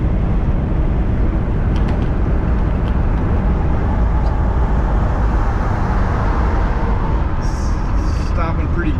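A Forest Service K30 one-ton solid-axle truck drives along with a loud, constant cabin rumble and road roar. Faint rattles of loose items vibrate inside, and a voice is heard briefly near the end.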